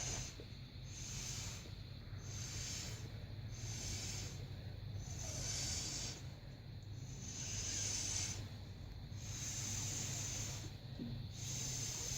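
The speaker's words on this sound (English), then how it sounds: "I'm going to blow it with a straw to make it all wispy." Titanium white fluid paint is blown across a painting through a straw in a row of short, soft airy puffs repeating about every second, close and faint.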